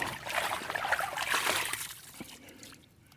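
Water trickles and splashes as gravel is rinsed in the Peace River in Florida during fossil hunting, a close, steady wash that tapers off toward the end, with no speech.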